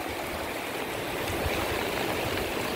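Floodwater of a swollen river in Isabela rushes past a broken flood-control structure, a steady, dense roar of churning water that holds constant throughout, close and loud with no voices.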